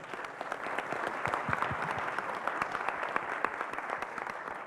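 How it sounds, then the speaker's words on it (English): Audience at a closing plenary applauding YIGF participants and school children, sustained crisp clapping from many hands at moderate distance, even in intensity from start to finish. "Round of applause to all the YIGF"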